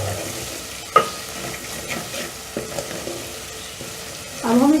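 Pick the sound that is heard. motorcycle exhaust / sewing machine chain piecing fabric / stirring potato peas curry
stirring potato peas curry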